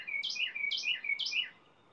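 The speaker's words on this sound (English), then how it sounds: "as the birds sing for us" A bird sings three clear, repeated whistled phrases in an even rhythm, close and fairly loud against a quiet background, then falls silent.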